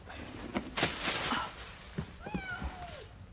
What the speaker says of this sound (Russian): Не мяукай.